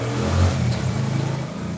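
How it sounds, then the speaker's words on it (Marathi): Road traffic passing a roadside shop, a continuous low engine hum with a slight revving rise and fall from a nearby vehicle, steady and moderately loud, with no talk. "रोडवर असल्यामुळे आता गाड्यांचा आवाज येतोय"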